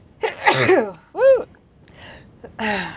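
A single sharp, close sneeze bursts out, followed by a throat-clearing sound and brief vocal noises.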